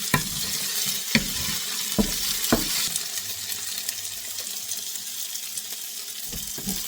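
Chicken frying in a pan for fried rice makes a steady close sizzle, punctuated by a few sharp clacks of a utensil against the pan, with no talking.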